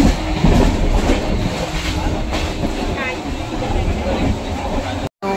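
A crowded local train near Panvel passes close by with a loud, steady rumble and faint rhythmic wheel clatter, while voices talk over it.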